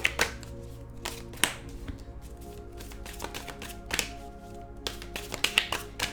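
Oracle cards being shuffled by hand, giving a series of soft irregular taps and brisk riffling flicks, close and fairly quiet, with no talk over them.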